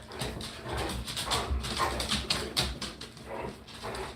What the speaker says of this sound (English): You might hear my dogs barking because...